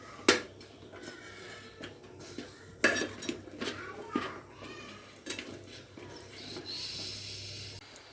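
A utensil stirs upma in a cooking pan over a low flame, giving irregular metallic clinks and scrapes with a few sharper knocks against the pan, close up and without talk.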